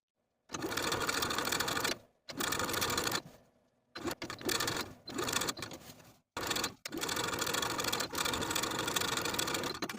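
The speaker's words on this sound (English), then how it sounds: "I'm going to edge stitch along that outer fold of the binding, pivoting at the bottom V" A sewing machine edge-stitches along the outer fold of bias binding on a sleeveless top, running in several close, steady bursts separated by short pauses.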